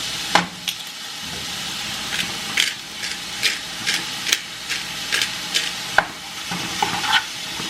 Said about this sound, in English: I'm just going to mix together this ground beef and onion.